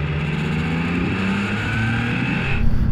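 A Triumph motorcycle is opened to full throttle coming out of a bend, its engine note climbing steadily and loud, close to the rider, before a sharp shift near the end.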